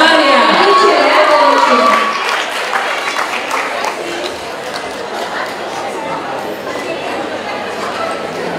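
Audience at a Christmas celebration applauding and cheering, a loud burst of clapping and whoops that fades after a couple of seconds into softer crowd murmur and scattered claps.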